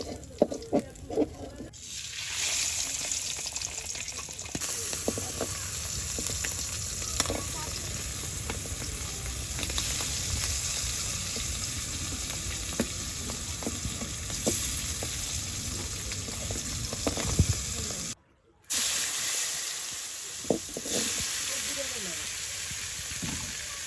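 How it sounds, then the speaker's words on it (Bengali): Hilsa fish from the Padma frying in a pan in a village kitchen: a loud, steady sizzle with scraping stirs and small pops throughout, cut by a brief dropout near the end. "দেখেন মাছগুলো ভাজি হয়ে গেছে, এখন নামাই নিতেছি।"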